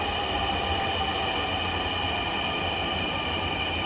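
A Dhaka metro rail train rolls steadily along with a continuous rumble and a high whine, loud and close, with no voices.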